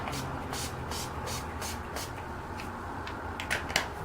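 Rapid bursts of fine hissing spray from Urban Decay De-Slick makeup setting spray, about eight quick spritzes in a row, then a pause and a couple more sprays close to the mic.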